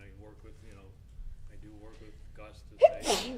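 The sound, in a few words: sneeze during a school board meeting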